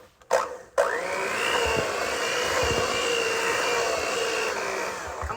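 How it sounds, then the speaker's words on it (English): Electric mixer whirring steadily through tea cake batter with vanilla bean, a few clunks at the start, then a loud continuous motor drone with no talking. "so I'm going to continue to mix this in here"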